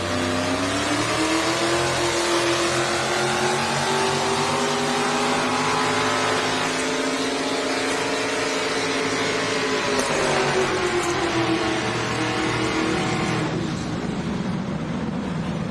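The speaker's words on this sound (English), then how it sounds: "And we'll see how that tractor, its maiden voyage here tonight in front of you fans." Tractor-pulling engines at a Thunder in the Valley pull event in Rock Valley, Iowa, rev loudly and continuously, a sustained roaring drone that climbs and falls in pitch, with no talk over it.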